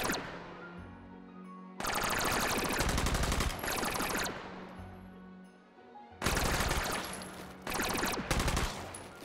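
Gunfire from the VR shooter Hot Dogs, Horseshoes & Hand Grenades comes in loud, sharp bursts of rapid shots separated by short quieter gaps, each volley ringing out with a crisp echoing tail.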